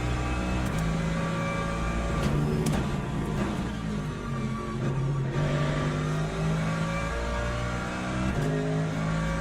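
A race car in the Le Mans Ultimate sim roars at close range, its engine revving and dropping through throttle changes and gear shifts in a steady, loud drone.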